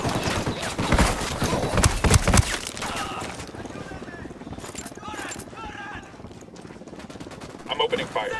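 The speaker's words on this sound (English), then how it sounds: "I'm opening fire." Gunfire in the video game Ghost Recon Wildlands, a loud, dense burst of rapid shots in the first few seconds, then quieter scattered pops and game noise with voices talking.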